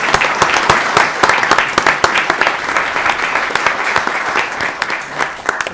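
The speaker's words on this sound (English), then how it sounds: "We can clap." An audience claps at a city inauguration ceremony in Woburn, a steady burst of applause with sharp, dense hand claps that stays fairly loud and even for several seconds.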